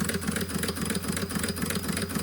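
A big restored Doll 512/3 steam engine runs with a fast, even chuffing pulse and a mechanical beat, loud and close, with no voices.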